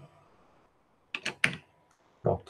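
A handful of sharp keystrokes on a computer keyboard, sparse and irregular, with a cluster of three quick clicks and then one more after a pause, quiet and close in an otherwise still room.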